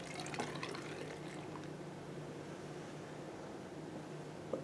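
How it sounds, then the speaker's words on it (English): Titrant poured through a narrow funnel into a burette with its tap closed, a steady close trickle of liquid filling the glass tube for several seconds, with a small splash or clink near the end. "I'm just going to pour it in"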